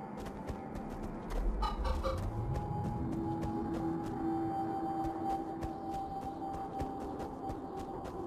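Chickens cluck in the Minecraft Story Mode video game, moderately loud, with steady game background sound and a rising then held tone beneath.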